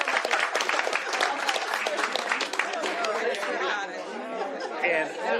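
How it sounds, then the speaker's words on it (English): A crowd at a governor's press conference breaks into a round of applause, dense steady clapping mixed with loud chatter and voices throughout, tapering slightly near the end. "Hey, a round of applause for everybody who made this happen."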